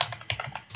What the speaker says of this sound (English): We could have just kept on typing